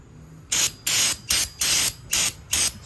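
A cleaner with no chlorine is sprayed onto a pickup truck in six short hissing bursts from a trigger bottle at close range. The bursts come in a steady rhythm, each one sharp and loud, with brief quiet gaps between them.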